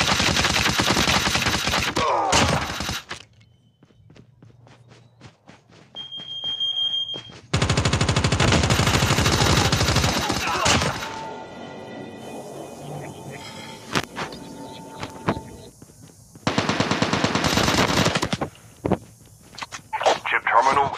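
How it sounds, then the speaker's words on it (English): Gunfire in the Call of Duty Mobile video game, loud rapid automatic bursts in several separate stretches with quieter gaps between, plus game alert tones, and a voice speaking at times. "Shooting."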